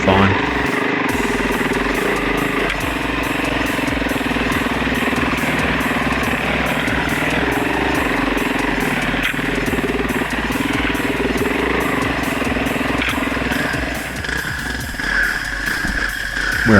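A Husqvarna TE449 single-cylinder motorcycle is ridden on trails with a steady, rough engine drone and constant rattling vibration that stays loud and close throughout.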